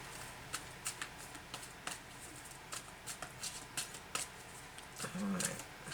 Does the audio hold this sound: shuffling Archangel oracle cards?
yes